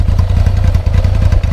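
A 1988 Yamaha XJ600 cafe racer engine runs steadily up close, its low pulsing idle thumping in a quick, even rhythm with a slight mechanical clatter.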